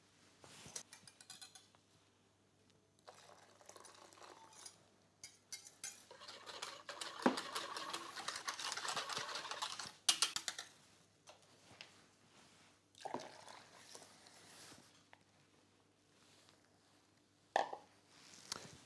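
Sugar and egg yolks are whisked in a bowl for crème anglaise, giving irregular clinks and scrapes of metal on the bowl. The sound grows into a busier, steady stretch of whisking in the middle, then thins to scattered taps.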